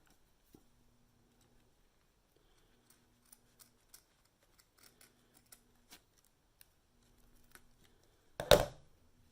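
Scissors cut off excess material from a sublimated hair bow, with faint ticks and rustles of handling leading into one louder, crisp snip near the end in an otherwise quiet room.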